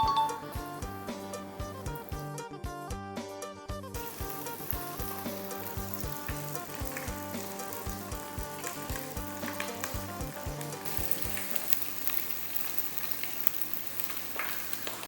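Flour-coated rice balls packed with Thai pork sausage deep-fry in oil with a steady bubbling sizzle, while a tonal melody plays alongside for most of the stretch.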